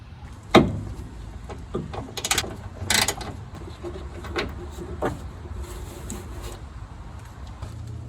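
Ratchet clicks and metallic tool noises come from removing small 10mm bolts on the gas tank shield of a 1986 Chevy S10 Blazer, sounding in short irregular bursts close by with no talk.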